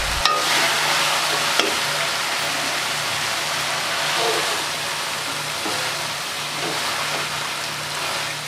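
Shredded cabbage with potatoes and capsicum is stirred in a hot pan, giving a steady sizzle and hiss with soft scraping that runs the whole time, a faint voice now and then.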